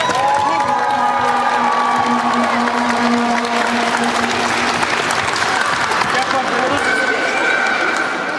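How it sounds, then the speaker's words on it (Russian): Stormy applause and cheering fill a hall after a match between Welltex and Oreshka, a dense, loud, continuous crowd roar with voices and whoops mixed in throughout. "Бурные аплодисменты!"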